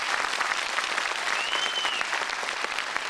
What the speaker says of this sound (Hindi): इतनी सी तालियां बजाएंगे।